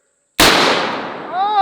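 A 50 BMG rifle fires a less-lethal round: a single sudden, very loud blast right up close, its roar decaying over about a second before a brief ringing, whistling tail.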